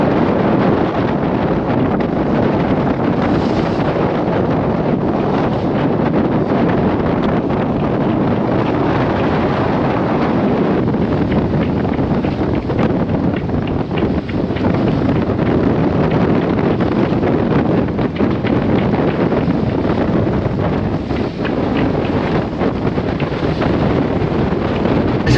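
Strong, constant wind buffets a sailboat at sea off New Zealand's Cape Brett, gusting near 25 amid a heavy swell. A dense, unbroken roar of wind on the microphone fills the whole stretch, with a faint wash of water beneath and no talk.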